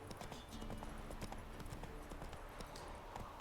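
Horse hooves clip-clopping in The Witcher 3: Wild Hunt video game, a fast, even run of hoof beats at a gallop over steady ambient game sound, continuous throughout.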